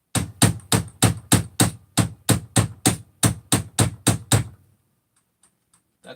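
Sharp metallic hammer blows strike a stuck metal insert inside a chainsaw air horn, about a dozen evenly spaced, loud hits in a brisk rhythm before stopping abruptly, followed by faint small clicks.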